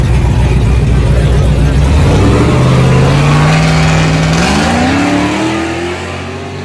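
A vehicle launches down a drag strip, its engine roaring and rising steadily in pitch as it accelerates away, loud at first and fading slightly with distance.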